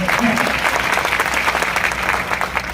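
Audience applause at a book launch for an IAS officer's book in Latur: steady, dense clapping from a crowd, loud and continuous throughout with no pauses.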